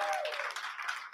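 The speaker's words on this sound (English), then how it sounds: "Let's clap it up for that." A crowd outdoors at the Wayne Shorter Way street-naming unveiling in Newark, applauding in a brief, steady burst of mixed clapping.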